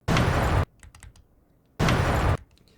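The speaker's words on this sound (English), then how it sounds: "that's sort of the sound of the initial blast of the explosion echoing off the canyons" An explosion blast echoing off canyons: two loud, dense bursts of roughly half a second each, separated by a quieter stretch of faint scattered crackles and rumble.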